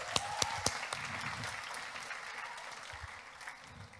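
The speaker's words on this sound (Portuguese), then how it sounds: "Uma salva de palmas para eles." Applause from a church congregation rings out at moderate level, a few sharp early claps opening into a steady, even round of clapping that continues through to the end.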